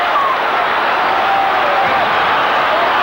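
A large football crowd roars and cheers at the Melbourne Cricket Ground after a Collingwood goal against Richmond in 1981, a dense, steady, loud wash of massed voices that holds for the whole stretch.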